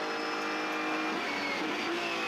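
GT race cars at the Buriram circuit in Thailand, including a BMW, racing closely in a slipstream, with a steady, loud engine roar and high harmonic whine sustained throughout.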